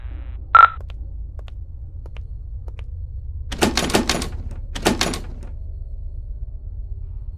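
A door in the horror video game Paranormal Entities, opening at an asylum's front entrance: a sharp click at the start, then two creaking, scraping bursts over a low background hum.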